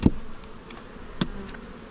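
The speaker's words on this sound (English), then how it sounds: "A decent amount of bees in here." Honeybees buzzing inside an open hive during a late-June inspection, a steady close hum with two sharp knocks or bumps against the wooden frames.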